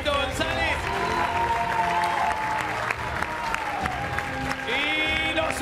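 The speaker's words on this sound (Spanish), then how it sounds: "El aplauso para Yuyito González." A TV game show studio audience claps for Yuyito González, a sustained burst of dense applause with music tones and a host's voice running over it.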